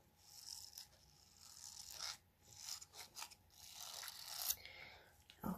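Soft silicone face massage brushes rubbed and scraped close to the microphone, producing faint bristly rasping strokes in irregular bursts with brief pauses between them.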